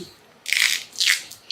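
Two short bursts of sticky, crackling pressure noise as a roller presses glued leather down, close by with quiet pauses between.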